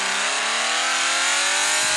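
A car in the mobile game Car Parking revs hard during a burnout, a loud, constant synthetic engine whine rising steadily with a squealing tire edge.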